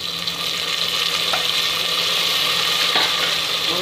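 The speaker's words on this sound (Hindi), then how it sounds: "अभी हम इसमें टमाटर डाल देंगे" Tomatoes added to well-browned onions in a pan for aloo kofta, giving a steady, loud sizzle and frying crackle close up, with a couple of faint clicks of utensils and no talking.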